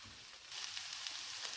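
Vegetables fry in a pan with a steady, close hiss and crackle that holds evenly throughout, with no talking over it.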